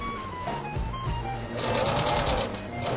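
A sewing machine stitches close along the edge of a small fabric owl pendant, a steady fast mechanical whir running continuously for a few seconds.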